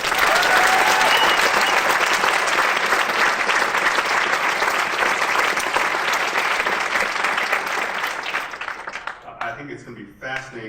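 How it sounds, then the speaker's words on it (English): Audience applause for Joe Pesci and the Tricklock theater participants, a dense roomful of clapping that stays loud and steady for about nine seconds before thinning to a few scattered claps at the end. "a round of applause to Joe Pesci and all of those who are participating in the Tricklock"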